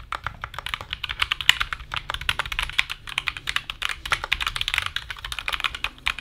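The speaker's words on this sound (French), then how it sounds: "Les switches, c'est ce qui te permet de faire du bruit ou non sur ton clavier." Rapid typing on a mechanical keyboard with tactile switches, a dense stream of crisp clicky keystrokes close to the microphone, with no voices.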